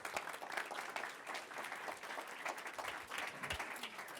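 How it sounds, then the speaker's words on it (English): A conference audience applauds the introduction of a sustainability panel, a steady wash of many hands clapping at moderate distance, continuous for a few seconds with no voices on top. "with a round of applause?"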